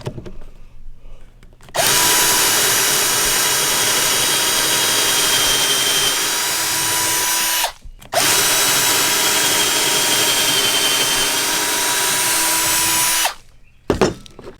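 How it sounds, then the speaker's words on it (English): A power drill bores pocket holes into wooden boards in two long, loud, steady runs of about six seconds each, separated by a brief pause and followed by a short burst at the end. "I'm going to drill a couple of pocket holes in each of these boards"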